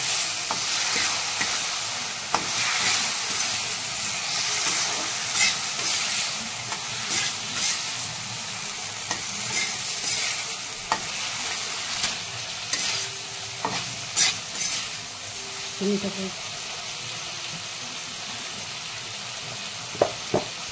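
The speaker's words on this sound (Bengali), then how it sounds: "এবার আমি কপিটা দিয়ে দেবো ওতে। আমি যে ভেজে রেখেছিলাম কপিটা ছেড়ে দেবো।" Fried cauliflower for Kashmiri-style cauliflower is tossed in a hot pan and stirred. A continuous sizzle runs under repeated scraping strokes and occasional clinks of the spoon against the pan for about twenty seconds.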